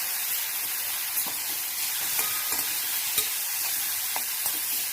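Ground masala paste for a shepu (dill), ambat chuka and potato bhaji sautéing in a pan, a steady close hiss of frying with scraping stirs and small crackles throughout, no talk.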